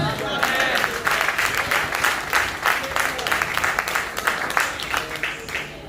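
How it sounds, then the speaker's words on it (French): A church congregation applauds in rapid, overlapping claps that keep going for several seconds, with voices mixed into the clapping. "on applaudit"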